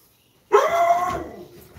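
A puppy gives a single close, loud bark that trails into a short, whining howl, heard alone after a moment of silence.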